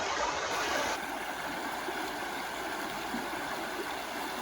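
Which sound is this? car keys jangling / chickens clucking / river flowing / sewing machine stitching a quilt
river flowing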